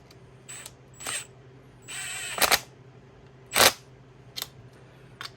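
Ratcheting and clicking bursts from a torque wrench running down and tightening shifter bolts on a Hybrid Racing B-Series shifter install, several short close metallic clicks and ratchet spins separated by pauses, with no voices.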